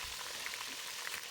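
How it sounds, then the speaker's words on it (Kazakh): Meat sizzles in hot oil in a frying pan, a steady close crackling hiss with no talk over it. "Қызып тұрған майларымызға бірінші етімізді сковородкаға салып қуырамыз"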